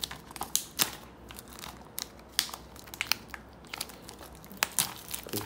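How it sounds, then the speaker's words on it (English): Plastic shrink wrap being cut and peeled off a Scream Factory collector's edition Blu-ray of The Return of the Living Dead, heard as close, continuous crinkling and crackling with sharp irregular snaps throughout. "Cut the plastic off."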